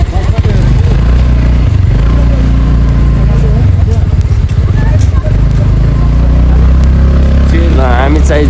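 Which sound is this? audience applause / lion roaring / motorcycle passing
motorcycle passing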